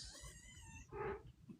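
Several kittens from a newborn litter cry together in rising, overlapping mews indoors, with a louder cry standing out near the end, fairly close and loud.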